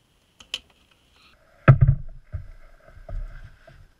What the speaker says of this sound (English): Removing the expansion tank cap helps draining the coolant much more faster